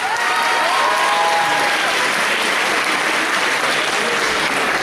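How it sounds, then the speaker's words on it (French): Loud, dense applause fills a cosplay contest hall at Manga Dax 2017, a steady roar of many hands clapping at once without letting up. "Merci à lui, on l'applaudit encore très fort."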